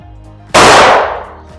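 One sharp, very loud pistol shot fired up close, a sudden blast that rings out and fades over about a second, with no talking.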